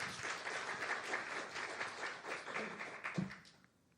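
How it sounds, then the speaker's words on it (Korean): A church congregation claps in a burst of dense, fairly faint applause that carries on for about three and a half seconds before quickly dying away. "박수 한 번만 쳐줘."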